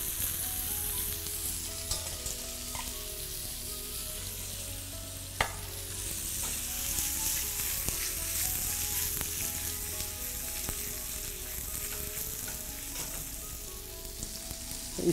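Garlic sizzles steadily in lightly heated oil, a continuous close frying hiss with occasional stirring scrapes and a sharp utensil clink partway through, no voices.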